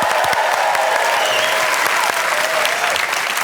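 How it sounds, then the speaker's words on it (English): A studio audience at a television comedy game show bursts into loud, sustained applause that fills the room steadily and evenly from start to end, with no talk over it. "so let's give that a huge round of applause."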